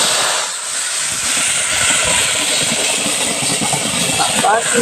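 Ground ghatkol leaf paste sizzling in hot oil in a wok, a loud, steady hiss of frying that runs throughout, with a voice heard faintly in the background.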